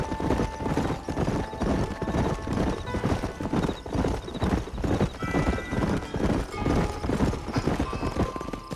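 Horses' hooves clip-clop steadily in the Red Dead Redemption video game, a loud, rhythmic trotting beat from several mounts with occasional whinnies layered over western game ambience.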